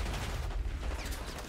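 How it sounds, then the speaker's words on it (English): Sniper fire in Call of Duty Black Ops 6 arrives as booming, rumbling gunshots within a dense wash of battlefield gunfire, with heavy low-end thumps and scattered sharp cracks. "Dude, I'm getting sniped, bro."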